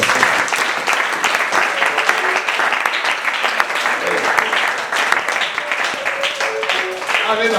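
A church congregation breaks into sustained applause, dense clapping filling the room throughout, with voices calling out underneath.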